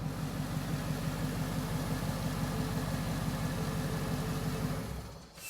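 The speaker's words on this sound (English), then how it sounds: "So now that we know the motor runs" A 2015 Ford Mustang GT V8, run with no coolant, idles steadily and close with a continuous low rumble that dips briefly just before the end, as if being shut off.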